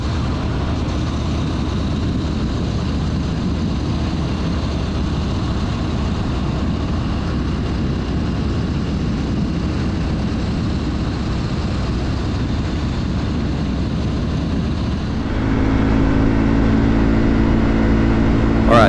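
A Triumph Speed 400 single-cylinder motorcycle at speed on a highway in sixth gear, with a steady loud engine drone and wind rush that shifts to a deeper, more tonal engine note near the end.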